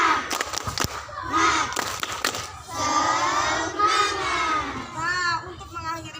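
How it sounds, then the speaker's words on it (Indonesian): A classroom of young children claps a quick rhythmic pattern, then chants together in loud, overlapping voices, with more bursts of clapping between the shouted lines. "Sebelum berdoa kita tepuk semangat bareng-bareng ya."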